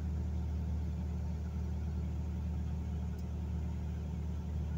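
A Hyundai Grand Starex engine idles with a steady low rumble that lifts slightly as the air-conditioning actuator engages, close and continuous with no talk.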